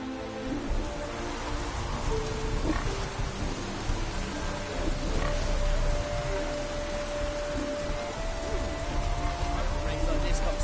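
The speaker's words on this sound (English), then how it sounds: "Rains like this come so time." Steady rain pouring down in a PS4 game, a dense continuous hiss that stays even and fairly loud throughout, with faint low rumbles beneath.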